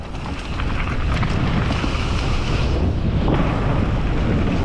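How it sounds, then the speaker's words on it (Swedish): Gusty wind roars steadily across an outdoor microphone, a loud, continuous broadband rumble that barely changes throughout, with no one talking. "det är fortfarande ganska blåsigt"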